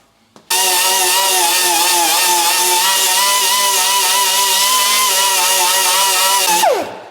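A dual-action sander works a car body panel on an abandoned Evo 8 rebuild, feathering the bodywork: a loud, steady high-pitched whine that starts abruptly, holds without a break for about six seconds, then winds down at the end.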